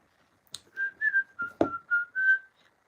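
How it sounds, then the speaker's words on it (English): A person whistles a short, cheerful melody of several sustained notes, clear and close, with a couple of light clicks between phrases and no talking. "Whistle while we work."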